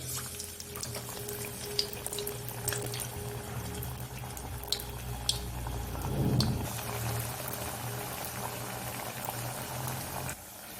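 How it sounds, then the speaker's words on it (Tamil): Vada dropped into hot oil for deep-frying, made without urad dal: a steady low bubbling sizzle runs throughout, swelling briefly around the middle, with a few faint clicks and no talking. "நம்ம இப்போ இதை எண்ணெயில் அப்படியே போட்டுடலாம் எண்ணெய் நல்லா சூடாக இருக்குது"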